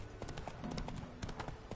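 Trotting hoofbeats from Roach, the horse in The Witcher, a brisk uneven patter of clops that comes in small clusters, near and soft, over faint game ambience with no speech.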